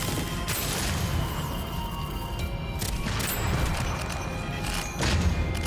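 Explosions from enemy rockets in the video game Deadzone: Rogue with a massive blast radius, heard as a few booming crashes spaced across the clip over continuous game noise and rumble.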